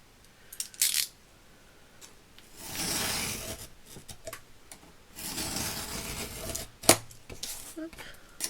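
Card stock is cut for a vintage Mother's Day card: two longer close scraping cuts with a few sharp clicks and taps between them, heard up close in a quiet room.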